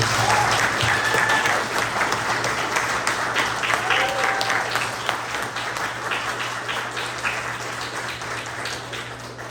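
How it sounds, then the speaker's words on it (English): An audience at a tenth anniversary dinner for a congregation applauds loudly and steadily, with the clapping slowly fading over about ten seconds beneath a low hum. "Please join me in a round of applause to thank the rabbi and the Rebbitzin for making this possible."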